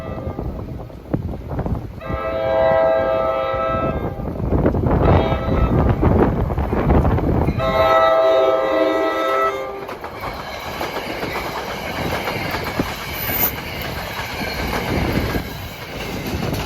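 Passenger train 1710 bound for Hoboken, New Jersey, approaches through howling wind on a cold day, a loud, steady rumble and clatter of wheels and cars rolling close by, with brief squeals and a faint horn-like tone.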